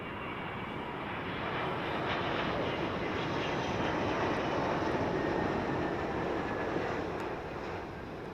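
Loud, sustained jet engine roar from an Etihad airliner at London Heathrow Airport, a broad steady rumble that swells slightly and holds throughout, no voices.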